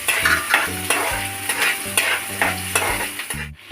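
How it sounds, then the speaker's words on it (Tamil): Chopped onions being stirred and sautéed in a pan for kathrika kulambu, a steady sizzle with rhythmic scraping strokes of a spoon against the pan, close and fairly loud with no talk. "வதக்கி எடுக்கிறேங்க."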